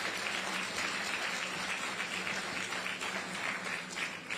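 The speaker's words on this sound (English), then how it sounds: "Give them a round of applause" A crowd at a ferry terminal ceremony gives a steady round of applause, a dense, even wash of clapping that carries on throughout.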